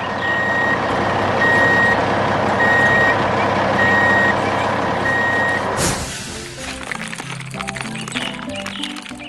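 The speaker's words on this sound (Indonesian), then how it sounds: "Truk biru itu terus melaju melewati lampu lalu lintas." A blue truck on a road in a 3D construction cartoon, with a steady engine rumble under a repeating reversing beep that stops partway through, leaving a rougher, quieter rumble with scattered clanks.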